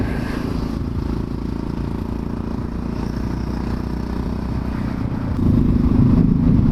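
A Yamaha XT660X motorcycle engine drones steadily while riding up the Chasseral Pass, with constant wind and road noise, then grows louder and rougher near the end as the throttle opens.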